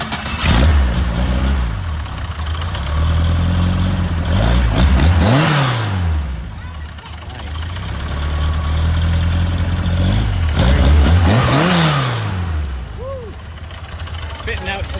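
A Volkswagen-Porsche 914 with dual intakes, one on either side, runs close by and is revved twice, each time climbing sharply and falling back to a steady idle. People talk over it at an outdoor car show.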